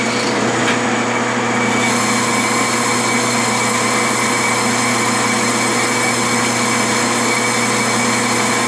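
A lathe spins a Jacobs super drill chuck with no center hole, a steady loud whirring motor drone with a constant high whine that starts up early and runs on evenly.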